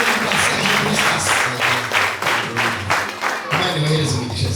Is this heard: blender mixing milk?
no